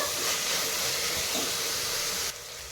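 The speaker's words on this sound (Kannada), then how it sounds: "ಟೊಮೆಟೊನ ನಾವೀಗ ಚೆನ್ನಾಗಿ ಮೆತ್ತಗಾಗೋವರೆಗೆ ಫ್ರೈ ಮಾಡ್ಕೋಬೇಕು" Chopped tomatoes fry in a pan for a restaurant-style vegetable biryani, giving a steady, loud steamy hiss that drops abruptly to a quieter sizzle near the end.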